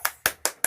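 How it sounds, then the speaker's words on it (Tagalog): Four crisp hand claps in a quick, even rhythm, close and fairly quiet, with no talking. "Palakpak."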